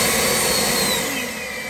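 An EGO Power+ cordless backpack electric leaf blower runs at high speed, a loud steady broadband whoosh of rushing air with a faint whine that eases slightly toward the end.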